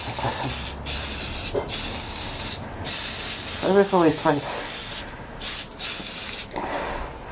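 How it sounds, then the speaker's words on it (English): Repeated bursts of loud aerosol spray hissing, starting and stopping in short pulses, with a brief voice murmuring in the middle, while spray painting a Mini radio-control car bodyshell. "I was going to spray that all the way over"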